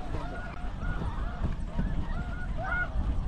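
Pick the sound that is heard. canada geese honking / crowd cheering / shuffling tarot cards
canada geese honking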